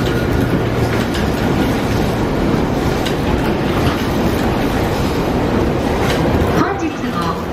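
A train arriving at Kinugawa-Onsen Station rumbles and clatters nearby, steady and loud, with a brief screech near the end, while a Japanese station announcement plays over it.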